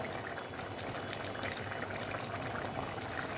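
Potato curry gravy for aloo dum bubbles and boils in a pot, a dense, continuous close-up burble of popping bubbles as the liquid reduces.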